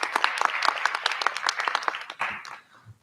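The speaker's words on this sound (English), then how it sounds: "let's give applause to our students" A board meeting audience applauds students with a dense run of claps for about two seconds, then the clapping thins out and trails off into quiet room noise.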